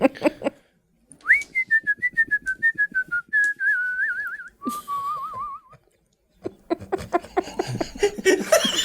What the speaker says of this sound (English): you should hear the whistle first